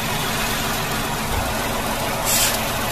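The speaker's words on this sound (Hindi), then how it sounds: "So this is how the engine noise is. और देखिए वाइब्रेशन है" A Tata Punch three-cylinder engine idles with noticeable vibration, a steady, dense mechanical drone close to the listener, with no talk over it.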